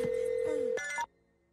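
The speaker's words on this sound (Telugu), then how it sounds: "ఏ రింగ్ అవుతుంది రింగ్ అవుతుంది." A telephone ringback tone on an outgoing call plays as a short steady electronic ring, followed by a brief chirp before it cuts off into near silence.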